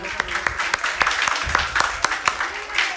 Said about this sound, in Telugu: అందరం గట్టిగా చప్పట్లు కొట్టి